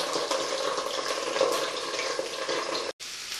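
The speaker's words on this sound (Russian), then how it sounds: "Только буквально 5 минут назад начал ее жарить." Potatoes fry in a pan with a steady, close, crackling sizzle that holds at an even level, broken by one brief dropout near the end; no one talks.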